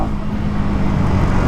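2024 KTM Duke Gen-3 motorcycle engine pulling steadily up through second and third gear while riding on road, a loud continuous close-miked drone with no clear gaps between shifts.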